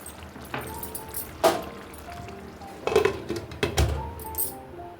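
Metal clinks and clatters of a lid going onto a pan of hilsa fish curry with green chillies, a few sharp knocks spaced apart over a faint kitchen background.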